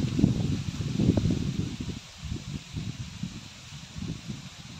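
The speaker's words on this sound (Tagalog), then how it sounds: "Lakas ng hangin dito, grabe." Gusty wind buffets the microphone with a low rumbling roar, joined by a faint hiss like leaves rustling.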